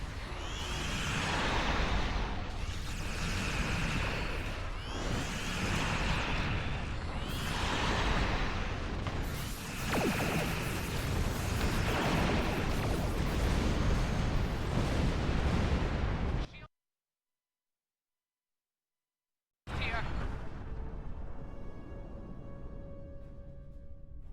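Starship weapons fire and explosions in Star Trek Online, a run of loud rhythmic blasts and bursts over about sixteen seconds, then a brief silence, then more weapon fire, with voices mixed in.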